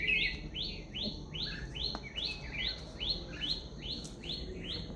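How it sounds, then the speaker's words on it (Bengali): Birds chirp in the morning among trees in a steady repeating series of short descending calls, clear and fairly close, over a soft background hiss. "চারিদিকে পাখির আওয়াজ"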